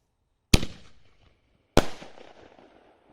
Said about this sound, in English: Another quote unquote festival ball from Boomer. Miniature canister shell.